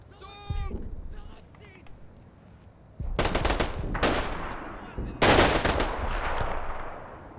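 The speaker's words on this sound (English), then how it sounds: "somebody's firing out of the woods" Gunfire from the woods in the Combat Mission Battle for Normandy video game: a short opening burst followed by several loud, rapid volleys of shots at close range, with shouted voices around them.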